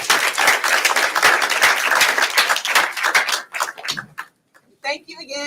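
An audience claps for a guest speaker at a genealogy lunch-and-learn event, with loud, dense applause that thins to scattered claps and then stops as a voice begins speaking.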